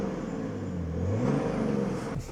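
A BMW X5 turbo-diesel with an aftermarket downpipe whistles sharply over a steady engine drone, the whine rising and bending in pitch as the SUV pulls, close and loud.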